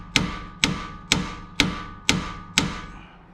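Six light, evenly spaced hammer strikes ring out on a suspension part of a 2013 Jeep Grand Cherokee during a Rough Country 2.5-inch lift install. Each blow is sharp and metallic with a short decaying ring, steady and close, with no talking.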